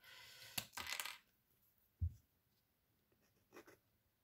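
A pencil drawing lines on a distressed storage craft project, a few short scratchy strokes and light taps, close and quiet, separated by silent gaps.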